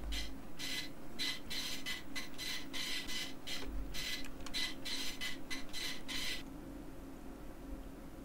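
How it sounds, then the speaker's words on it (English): A printer in a video game produces a plastic copy of a gun with a run of rhythmic mechanical chattering and whirring passes that stop abruptly, leaving a low hum. No one speaks. "This printer model uses materials that faithfully reproduce the original objects by starting from simple photos."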